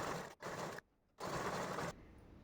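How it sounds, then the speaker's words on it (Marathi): A sewing machine stitches a one-and-a-half-inch fabric frill onto a sleeve in two close, steady mechanical runs separated by a brief quiet pause, then fades to near silence. "आता ही आपण शिलाई मारून घेऊया बरोबर आपण ह्या शिलाईवरच शिलाई मारून घ्यायची"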